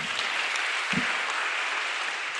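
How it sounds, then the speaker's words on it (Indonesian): Steady clapping from a group at a university public lecture, a dense wash of applause lasting a couple of seconds with no voices. "Tepuk tangan buat siapa namanya?"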